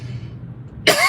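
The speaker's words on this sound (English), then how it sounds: "I'm still coughing." A person gives one sharp, loud cough right at the end, after a short stretch of quiet low background noise.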